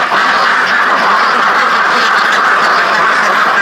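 Ducks on a poultry farm quack continuously in a dense, loud chorus of overlapping calls that fills the whole stretch, close by and without any talking.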